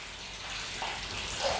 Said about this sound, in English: that water is just running straight off